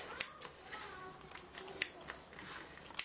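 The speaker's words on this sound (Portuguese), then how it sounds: "Minha tesoura tá ficando cega já." Dull scissors snip fabric notches while making a fabric-covered decorative niche from recycled materials, a series of short, crisp cuts at irregular intervals over faint room noise.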